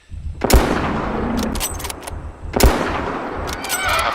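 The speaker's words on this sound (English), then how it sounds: "the gun motions, shooting the animal, it's all pretty solid" Two loud gunshots ring out about two seconds apart at a Triceratops in the Prehistoric Hunt game, each with a sharp crack and a decaying tail, over a low ambient rumble with faint chirps.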